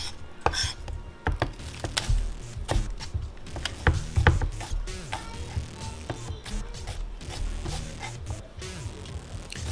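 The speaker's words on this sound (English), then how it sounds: "grind us up some black pepper" Black pepper ground in a hand pepper mill over fried rice, a run of close, crunchy ratcheting twists with clicks and rattles that keeps going for several seconds, and no one talks.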